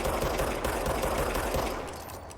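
Rapid, continuous gunfire from a weapon with unlimited ammo in the video game Control, loud and dense throughout before easing slightly at the end.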